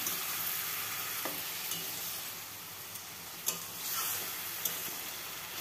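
Spinach cooking down in its own released water in a pan with salt and turmeric, a steady soft sizzle with a few light scraping stirs and occasional clicks, close and alone without talk.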